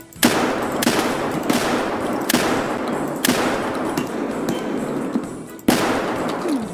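Bursts of automatic gunfire from Escape From Tarkov crack out close and loud, several sharp volleys with brief gaps between them, and no talk over the shooting.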